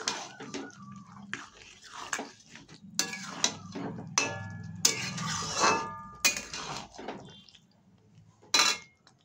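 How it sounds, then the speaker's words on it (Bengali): Lentils (dal) being stirred in a cooking pot for a rice-free khichuri, with repeated clinking and scraping of a utensil against the pot in irregular bursts, close and fairly clear, no talking. "এবার খুব ভালো করে ডালটাকে এর সঙ্গে 1 থেকে 2 মিনিট মধ্যে একটু এভাবে নাড়িয়ে চাড়িয়ে নেব।"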